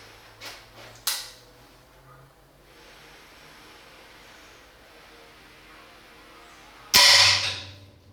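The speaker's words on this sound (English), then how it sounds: "I have a Weihrauch high quality break barrel airgun, 22 caliber, and I'm going to shoot at the same board." A Weihrauch .22 caliber break barrel airgun fires a pellet into a wooden board with one sharp, loud crack near the end, preceded by a couple of softer mechanical clicks.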